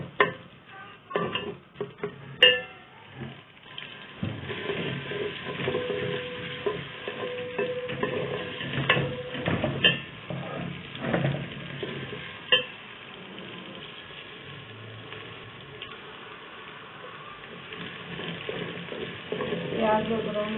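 Two medium onions frying in hot oil for a green chickpea curry, a steady crackling sizzle with scattered clinks and scrapes of a spoon against the pan, close and continuous.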